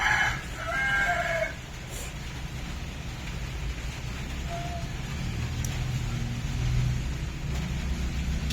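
A rooster crows near the start, with clucking fowl around it and a steady low hum underneath, likely a motorcycle engine idling close by.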